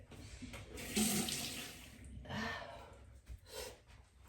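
Tap water runs into a bathroom sink as a face is rinsed, with splashing bursts that rise and fade a few times over several seconds. Quiet and close, no talking.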